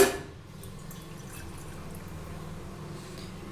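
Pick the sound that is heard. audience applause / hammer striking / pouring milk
pouring milk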